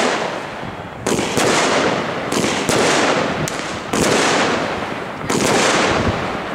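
A New Year's Eve consumer fireworks show in Velsen-Noord: several loud bursts go off in quick succession, each followed by a crackling, hissing wash, with a continuous background of distant pops.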